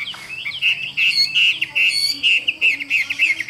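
A caged tam hoàng songbird sings nonstop and up close: bright, rapid chirps and trills in a continuous stream, with only faint background noise.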